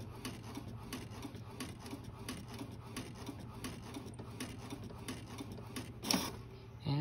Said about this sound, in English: Printing looks good so far.